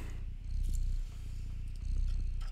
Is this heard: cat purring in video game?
yes